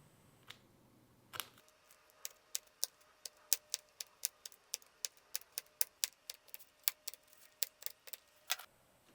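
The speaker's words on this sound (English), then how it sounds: "I'm using my scratch awl and a thick piece of cardboard under the zipper. Go ahead and punch each one of these holes through." A scratch awl punching stitching holes through a small leather trucker wallet resting on thick cardboard, a steady series of sharp close taps about twice per second over near silence.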